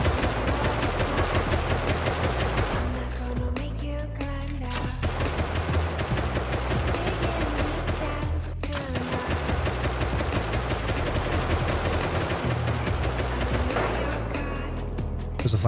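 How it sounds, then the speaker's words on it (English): Sustained gunfire in the survival game Rust, dense automatic bursts running nearly continuously at steady loudness, with a few brief lulls, in a fight against groups of hackers. "I'm gonna start shooting this"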